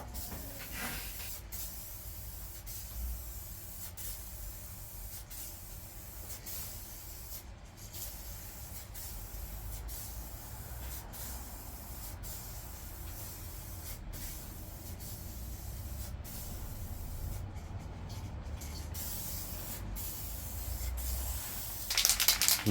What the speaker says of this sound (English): second coat of clear going on now